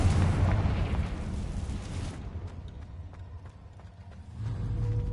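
A Confringo fire-spell blast in Hogwarts Legacy: a loud, booming burst that fades into a quieter rumble with scattered crackles, then swells again near the end.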